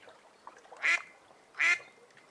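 Two loud duck quacks sound a little under a second apart, each a short nasal burst, with quiet in between.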